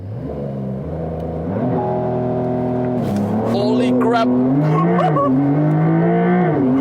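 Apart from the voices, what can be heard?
Porsche 911 GTS (992) launch control acceleration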